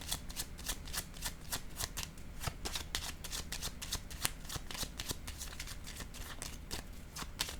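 Tarot cards shuffled by hand for a reading, a rapid run of soft crisp riffling flicks close up and quiet, steady throughout with no talking.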